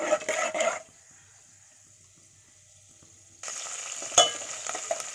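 Chana dal, mustard seeds and cumin are tempered in hot oil and stirred. A brief sizzle gives way to near-silence, then a brighter steady crackle returns with a single metallic clink of the utensil.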